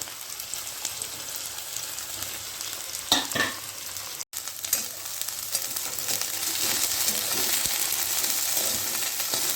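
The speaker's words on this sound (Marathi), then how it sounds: "आता या भेंड्या आपण चांगल्या भाजून घेऊया" Spiny okra (kate bhendi) fries in hot oil in a home kitchen, giving a steady broadband sizzle with a few louder crackling bursts, building slightly toward the end, near and alone with no talk.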